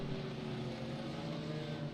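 iRacing IndyCars at Nashville under caution, engines held at full throttle with the clutch in to burn fuel: a steady, droning multi-engine hum with strong low harmonics, continuous and even throughout.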